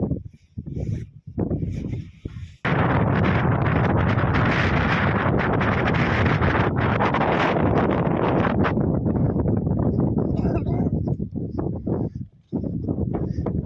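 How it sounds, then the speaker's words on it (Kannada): Strong wind on the Shivagange hilltop in Karnataka roars and buffets the microphone in a loud, continuous rush after a brief gustier start, easing only for a moment near the end. "ಗಾಳಿ ಬಿಡ್ತಾ ಜಾಸ್ತಿ."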